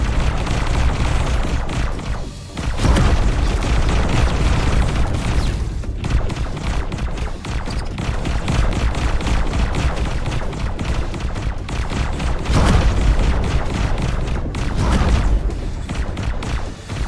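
Spaceship weapons fire and explosions in X4 Foundations, with repeated heavy booms and blasts rolling over a dense continuous din, several big surges standing out.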